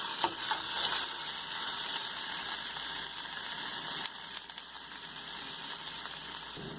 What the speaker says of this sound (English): Now I am going to add ginger garlic paste, and then after that we have to cook it for at least 2 to 3 minutes